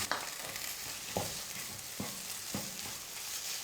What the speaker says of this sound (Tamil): கடைசியாக இது கூட கொஞ்சமாக பொடியாக நறுக்கிய கொத்தமல்லியை சேர்த்து மிக்ஸ் பண்ணிக்கிறேன்.